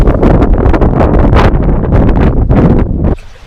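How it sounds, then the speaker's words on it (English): Strong wind roaring and buffeting loudly over the microphone on a sailboat, a constant gusty rush that drops away abruptly near the end. "There's a fair bit of wind"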